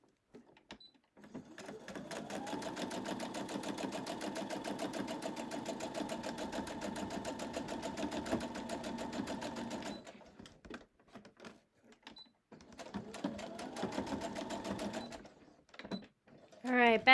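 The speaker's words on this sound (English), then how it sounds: "back stitch to lock it down, and here we go" A sewing machine runs steadily for about nine seconds, back stitching and joining strip crumb and shred quilt blocks, then stops and resumes for a shorter run, with a voice talking quietly around it.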